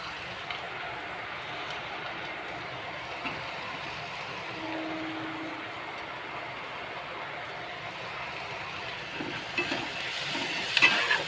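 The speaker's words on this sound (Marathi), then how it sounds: "कांदा टोमॅटो भाजत आलाय." Onion and tomato fry in a pan for a Marathi farsbi bhaji, making a steady, even sizzle that holds through the clip, with a little stirring clatter near the end and no talk.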